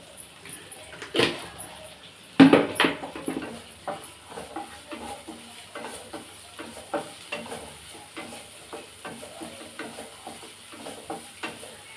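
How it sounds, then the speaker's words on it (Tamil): Onions sautéing in a pan for chilli chapathi sizzle softly and continuously, with several sharp stirring and scraping knocks and clatters of a utensil scattered across the stretch. "வெங்காயம் நல்லா வதங்கட்டும்."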